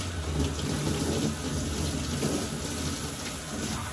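Running water sprays steadily at close range onto a French Bulldog's face during a bath, a continuous even hiss and splash with no breaks and no talking.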